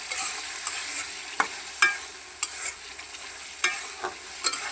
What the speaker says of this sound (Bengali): এই যে মাছ ভেজে এখন আমি যে তরকারিটা কষা নিতেছি